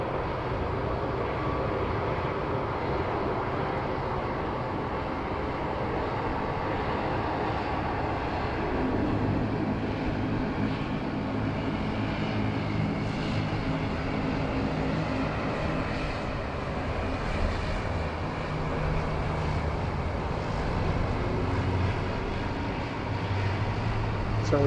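A Qantas airliner rolls along runway 34 left at Sydney Airport, giving a steady, broad, continuous jet engine roar that holds at even loudness throughout without a break.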